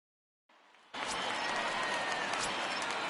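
Stadium crowd in the baseball video game MLB The Show 19 swells from a low murmur into a loud, sustained roar of cheering and applause that fills the rest of the moment.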